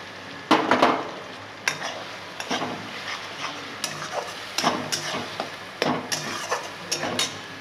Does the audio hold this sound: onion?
yes